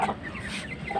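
An Aseel chicken clucks softly in a short burst of a few quiet, close calls on a farm, faint and alone.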